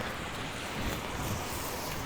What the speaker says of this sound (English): A big gust of wind tried to blow it inside out.